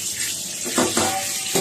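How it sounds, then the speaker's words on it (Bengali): Mutton pieces are rinsed under running water in a kitchen, giving a short, close splashing and gurgling with wet handling sounds, moderately loud and alone. "মাংসটাকে প্রথমে ভালো করে ধুয়ে নেব।"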